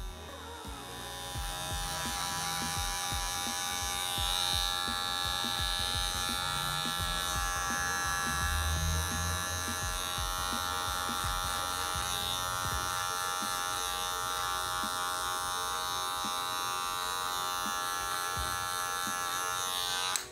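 Electric hair clippers with a comb guard buzz continuously while fading a beard, a close, loud, steady hum running throughout with faint shifts as the blade moves, and no talk.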